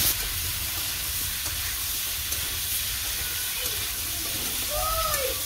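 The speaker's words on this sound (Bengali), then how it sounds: "এই দিয়ে দিলাম মাছ তরকারি রান্না করতেছি" Snakehead fish curry with turmeric cooking in a pan over a village fire, giving a steady broadband sizzle and hiss throughout, with faint clinks of stirring near the end.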